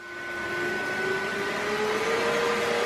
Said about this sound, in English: I pretty much always just put it to the high setting and just vacuum out whatever I need to vacuum out